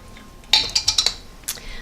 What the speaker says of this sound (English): And then I just pour them on my board